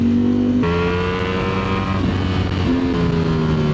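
Ducati Streetfighter V4 S motorcycle engine accelerating hard and loud up close, with a rising howl that drops sharply at each gear change, then climbs again, heard alone without talk.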